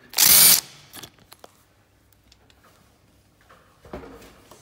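A cordless impact driver spins off a socket in one loud half-second burst, followed by faint clicks and handling noise and a softer whir near the end.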